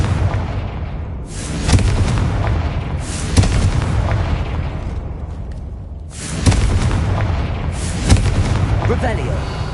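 Confringo fire-blast spells bursting in a Harry Potter-style video game, a few loud booming explosions a couple of seconds apart over a constant rumbling game background, with speech-like voice sounds mixed in.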